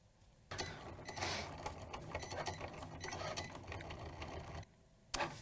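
A Cricut cutting machine cuts a design into material for a cap, producing a quiet whirring and ticking mechanical run that starts after half a second, stops near the end, then gives one sharp click.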